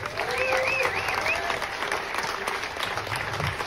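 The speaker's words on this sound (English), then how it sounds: "give them a round of applause" An audience bursts into a round of applause, dense clapping filling the space at steady loudness, with a few whistles and cheers rising over it early on.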